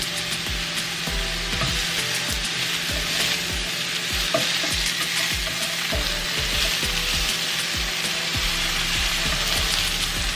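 Sweet potatoes and mushrooms fry in a pan, giving a dense, continuous sizzle with a rhythmic scraping of stirring underneath, close and fairly loud with no voices.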